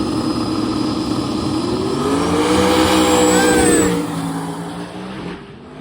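Drag racing car making a pass at a drag week event, a loud engine roaring and revving with rising tones as it accelerates past, then fading away toward the end.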